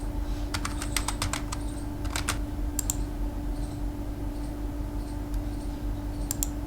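Keys clatter on a computer keyboard in short irregular bursts while a password is typed, fairly close, over a steady low hum with no talking.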